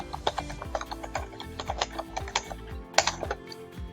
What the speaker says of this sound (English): you're going to go to Google and type in Google Convert Temperature, just like this